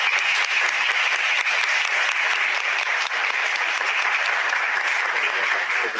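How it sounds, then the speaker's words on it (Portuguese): A university lecture audience gives a professor sustained applause at the Folkcom 2025 event, a dense, steady wash of many hands clapping at even loudness throughout, with no talk over it. "Primeiro, palmas aqui para o professor."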